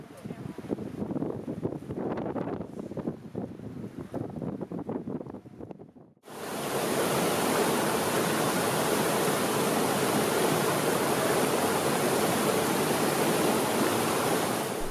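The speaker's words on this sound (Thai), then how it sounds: "น้ำตกป่าละอู" Pa La-U waterfall in Kaeng Krachan National Park, Thailand, crashing onto rocks in rainforest, bursts in as a loud, dense, continuous roar after a quieter opening stretch.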